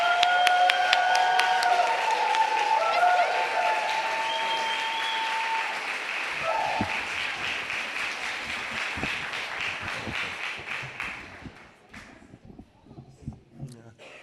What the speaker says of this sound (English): Let's hear it for Mark.